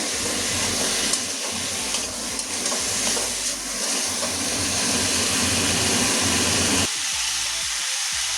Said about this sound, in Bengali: কুমড়ো 2 মিনিট কষিয়ে নেবো মশলার সঙ্গে।